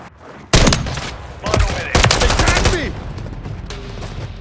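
Gunfire in a Call of Duty match: a sudden loud burst followed by several rapid shots and echoing impacts, which fade into a lingering tail.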